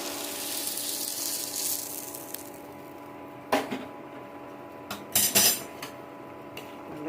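A spoon scrapes and clinks against a pot of boiling drumstick tamarind curry, with a soft bubbling hiss at first and then several sharp metallic knocks spaced apart, close and fairly loud.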